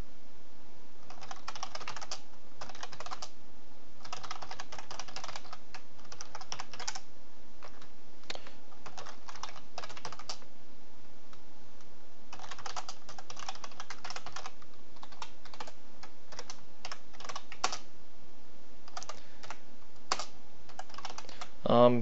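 Code being typed on a computer keyboard while building a C++ Qt TCP server, a steady run of close key clicks in bursts and short pauses, no talk.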